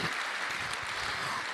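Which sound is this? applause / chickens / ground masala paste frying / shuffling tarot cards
applause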